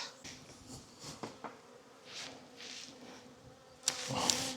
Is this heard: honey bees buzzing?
yes